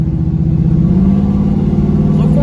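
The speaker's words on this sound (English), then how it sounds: "All right, pulling out here on the road." A car engine hums steadily and loudly from inside the vehicle as it pulls out onto the road after a brake repair, a continuous low drone with no breaks.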